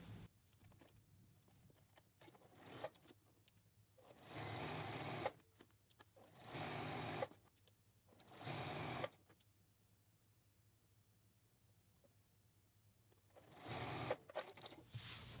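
A sewing machine stitches a T-shirt seam in four short whirring bursts separated by quiet pauses, heard close and fairly soft.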